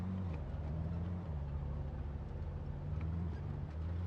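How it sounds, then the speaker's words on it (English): An unmuffled truck engine in the zombie survival game Project Zomboid, a loud, steady, deep rumbling drone with a slight wavering pitch, running continuously and alone throughout. "Is that no muffler truck?"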